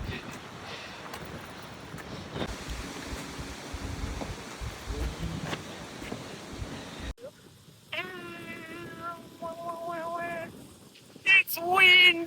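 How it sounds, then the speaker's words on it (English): Blustery wind on Staten Island buffets the microphone with a rough, rumbling rush for several seconds, then drops away as voices and other nearby sounds take over. "It's windy."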